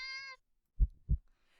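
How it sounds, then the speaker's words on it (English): A cat gives a single short meow, followed after a pause by two low, soft thumps like heartbeats in an otherwise quiet space. "Cat meows at you again, but sounds much deeper than earlier."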